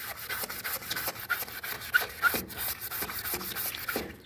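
A small sanding block is rubbed over truck paint outdoors, giving raspy, rhythmic back-and-forth strokes, close and moderately quiet.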